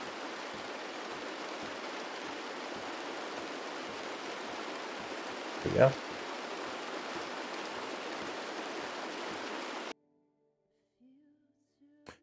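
Rain drums steadily on the car windows in a driving video game, a dense even hiss with one brief louder knock near the middle, then cutting out abruptly to near silence with a faint voice.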